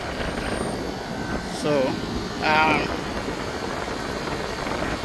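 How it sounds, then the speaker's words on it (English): HVAC rooftop heating and cooling unit with its compressor kicking on, a steady broadband mechanical drone running throughout, with a voice speaking briefly over it. "I could see that my compressor kicking, my unit kicking."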